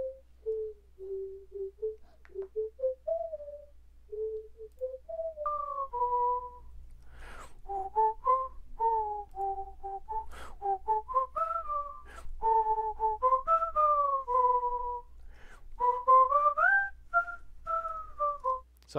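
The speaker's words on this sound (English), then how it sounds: "I whistled and then I just pitched it down like 2 octaves or 1 octave or something like that" A whistled melody pitched down one or two octaves and used as a smooth synth-like texture in a vocal-based track; a clear, steady tone line moves in stepwise phrases, growing louder and denser toward the end with no talking.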